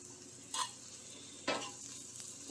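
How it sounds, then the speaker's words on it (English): Onions, partly red onion, sauteing in a pan with a soft, even sizzle, broken by two quick stirring scrapes about a second apart, close and fairly quiet. "I thought I'd bring you over while the onions are sauteing"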